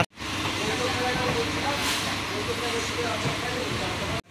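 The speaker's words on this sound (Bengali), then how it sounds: "তো বন্ধুরা আমাদের ট্রেন আস্তে আস্তে দমদম জংশন থেকে ছেড়ে দিয়েছে।" Steady rumbling train noise with a broad hiss, continuous and fairly loud throughout, as a Kolkata suburban train slowly pulls out of Dum Dum Junction.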